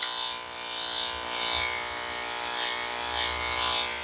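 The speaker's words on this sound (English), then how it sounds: "I'm going to use this 16 millimeter Andis comb here, the yellow comb, and I'm just going to come in reverse." Andis dog clipper fitted with a 16 mm yellow comb trimming the top of a small dog's head, a steady close electric buzz running continuously with slight swells as it moves through the fur.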